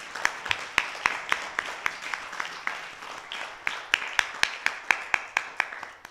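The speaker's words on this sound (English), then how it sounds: "So a round of applause for our team of teachers." Scattered, fairly quiet applause for a team of teachers at a Jhoola celebration at a Sai center, with separate hand claps spaced irregularly and no voices.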